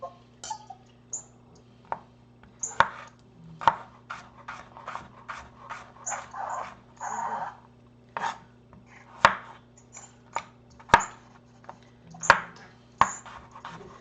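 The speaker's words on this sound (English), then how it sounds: "I'm just going to chop up my radishes to bite-sized pieces" Large radishes are chopped into bite-sized pieces with a knife on a cutting board in a home kitchen, producing a string of crisp, irregular chops close up over a low steady hum.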